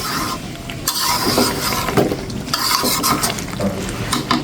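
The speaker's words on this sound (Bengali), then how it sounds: "এখন আমি নেড়ে চেড়ে দিচ্ছি।" Duck meat with coconut being stirred in a pan, a spatula scraping and clinking against the metal over a soft frying sizzle, close and busy with no speech.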